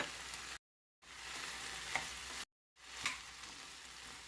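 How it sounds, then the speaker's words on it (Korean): Onion stir-fries with potatoes, carrots and fatty beef brisket in a pan without added oil, giving a soft crackling sizzle with occasional stirring taps, broken by two short silent gaps. "감자가 좀 익으면은 양파를 넣고 또 볶아주세요."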